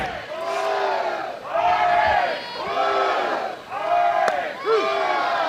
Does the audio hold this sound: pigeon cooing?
no